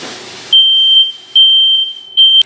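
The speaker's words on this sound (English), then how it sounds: "the alarm did go off on the first alert smoke detector" Loud, piercing electronic beeps from a First Alert smoke detector, three long high-pitched tones in a row with short gaps, after a brief burst of noise at the start.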